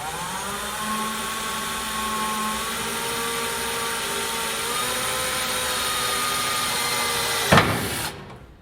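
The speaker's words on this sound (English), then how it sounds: "we are going to be drilling from the top in the right spot" A power drill with a step bit whines steadily at high speed, its pitch shifting slightly as it bites through metal on a 1993 Dodge, then abruptly winds down near the end.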